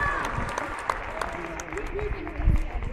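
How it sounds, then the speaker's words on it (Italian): A crowd claps at an outdoor youth football tournament award ceremony in Parma, a brisk round of applause with scattered sharp claps and murmuring voices mixed in. "applauso"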